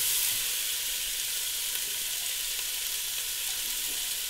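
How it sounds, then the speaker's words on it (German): Chopped onions sweating in a pot on the stove for goulash give off a steady, even sizzling hiss that stays close and constant throughout, with no voices. "Und jetzt schwitze ich mir die Zwiebel an"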